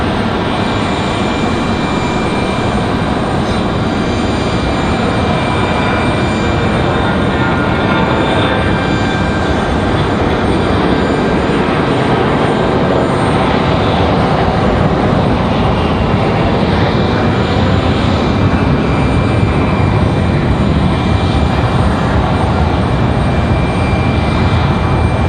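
American Airlines jet at Raleigh-Durham International Airport, its engines roaring in a loud, steady drone that holds without a break, with no voices over it.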